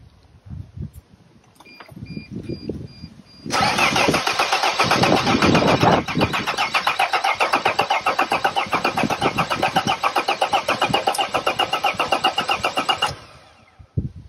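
Diesel engine of a Mercedes Sprinter T1N van cranking with a steady rhythmic chug for about ten seconds, loud and close, then falling quiet without catching.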